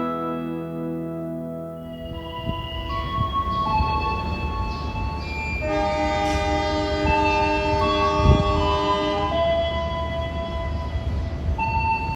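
Heavy, steady rumble and droning tones of the extra Pasundan train departing Kiaracondong station, loud and continuous with a building hum and no talking.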